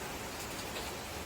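Steady rain pouring down during a typhoon and monsoon spell over flooded areas of Manila, a dense, even hiss of falling water heard alone for a moment.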